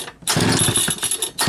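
A Homelite 2100 chainsaw fitted with a Tillotson HL 222A carburetor bursts into life after a brief pause, running loud and close with a rough, pulsing engine note for about a second before dipping and picking up again.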